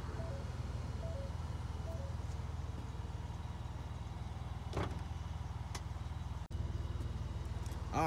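The power liftgate of a 2020 Ford Expedition Limited lowers with a steady electric motor hum and repeated warning chimes, ending in a soft latching thud.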